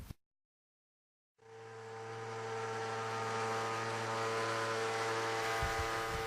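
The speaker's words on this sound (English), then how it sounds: "What you are witnessing is a 200 kilowatt resonant pile driver installing an AZ13 pair into dense sands that are saturated." A 200 kW resonant pile driver drives an AZ13 sheet pile pair into saturated dense sand, a steady loud droning hum with strong sustained tones that starts abruptly after a brief silence and holds at full level.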